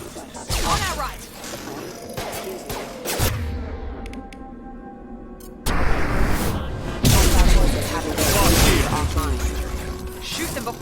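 Gunfire fills a firefight in the sci-fi shooter Mass Effect 2, with rapid bursts of shots, metallic impacts and crashes, briefly dropping to a quieter mechanical hum before loud firing resumes.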